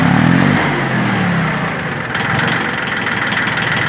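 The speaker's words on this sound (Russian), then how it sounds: "все работает ровно, работает отлично трактор" A Yanmar F13D 13 hp Japanese diesel tractor idles up close with a steady, throbbing chug that holds loud and even throughout.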